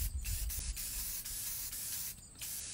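Red and black spray paint hissing from aerosol cans for hydro dipping a canvas, several close, steady bursts with short gaps between them, no talking.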